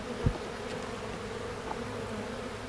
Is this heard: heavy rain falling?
no